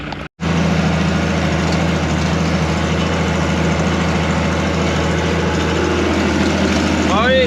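Tractor engine pulling a roller across a field, a loud, steady low rumble heard close from the cab, running continuously after a brief cut at the start.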